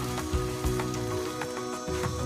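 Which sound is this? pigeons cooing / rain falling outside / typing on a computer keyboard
rain falling outside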